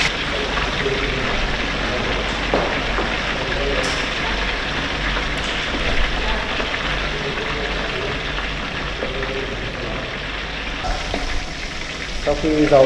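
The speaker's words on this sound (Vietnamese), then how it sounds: "khi dầu sôi chúng ta sẽ thả cua vào chiên" Steady crackling sizzle of crab frying in hot oil, a dense continuous hiss that stays even throughout with faint pops.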